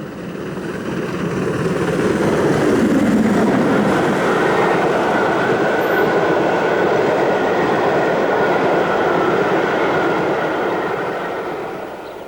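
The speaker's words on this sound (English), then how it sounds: "(6932) Burwarton Hall comes by with an up freight on the same day" Steam locomotive 6932 Burwarton Hall hauling an up freight train on Camden Bank, a loud, steady, close roar of rolling wagons and rail noise that holds for about twelve seconds and then eases slightly.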